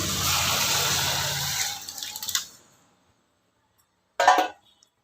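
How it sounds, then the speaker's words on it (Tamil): Cooked moong dal pours into a pan as a steady wet splashing stream for about two seconds, tapering off into silence, followed by a brief second splash. "இப்போ பாருங்கள், இந்த பருப்பு வெந்து எடுத்து வச்சுருக்கோம், அது இதில் ஊற்றிக்கலாம்."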